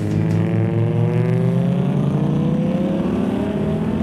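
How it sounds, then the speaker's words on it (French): Dodge Ram SRT10 V10 pickup launching at full throttle from a standstill on an airfield runway, a loud, steady engine roar rising in pitch as it accelerates hard, with no voices over it. "Et là on va simplement freiner, mettre un petit peu de gaz comme ça tranquillement et partir à fond."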